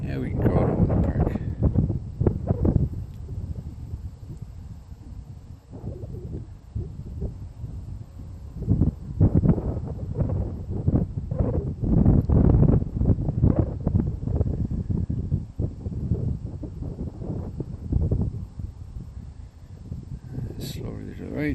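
Gusty wind buffets a Bebop 2 drone flying high over a park in cold, windy weather. Irregular low rumbling gusts swell and fade throughout.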